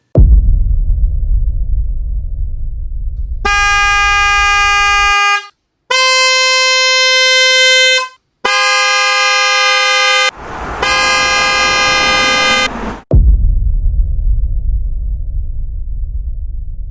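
Hella car horn, a 12-volt unit, blasting loud, steady twin tones of about 410 and 510 Hz in four separate bursts, each roughly two seconds long with short gaps between them, with a low engine-like rumble before and after.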